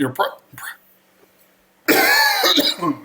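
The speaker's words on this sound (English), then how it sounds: "Pardon me, I cough." Brief speech, a pause, then a loud harsh cough burst close to the microphone, followed by throat clearing.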